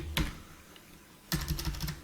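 Keystrokes on a computer keyboard while code is entered in an editor: a single soft tap, a pause, then a fast run of close clicks ending with a press of Enter, near and clear in a quiet room.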